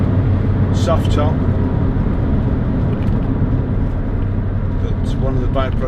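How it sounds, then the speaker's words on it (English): Steady low engine drone from a 2006 Toyota MR2 1.8 VVT-i roadster with a canvas soft top, heard from inside while driving, constant and moderately loud with road and wind noise, a voice talking over it. "one of the byproducts is you also hear the engine noise"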